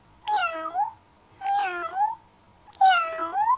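A cat meows three times at an even pace, each meow clear and drawn out with a short pause between them.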